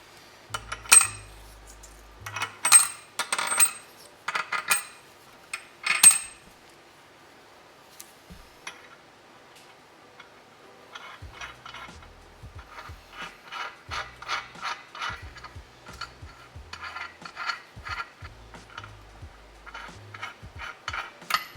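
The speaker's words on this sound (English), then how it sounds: "Next, let's get these washers and nuts on." Washers and nuts are fitted and threaded by hand onto bolts of a Jeep Gladiator spare tire skid plate, close clinking metal and ratchety rubbing in bursts, with a quiet gap midway.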